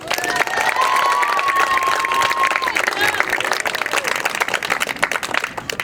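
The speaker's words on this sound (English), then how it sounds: "Please join me in celebrating Emily with a round of applause" Spectators at a high school soccer senior night applaud and cheer, with loud continuous clapping, whistles and scattered shouts swelling and fluttering across the crowd.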